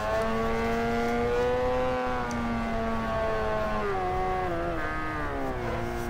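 A drift car engine in a racing video game on the Streets of Long Beach track revs steadily at high pitch, its note dipping and climbing as the throttle shifts, loud and continuous with no talk.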